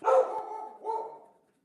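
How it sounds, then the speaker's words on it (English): A dog barks twice, a longer bark followed by a shorter one, loud and close, then quiet. "My dog will just keep going and going and going."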